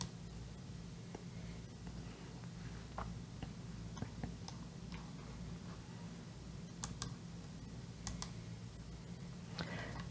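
Soft computer mouse clicks, a few scattered sharp ticks, sound faintly and close over a low steady hum.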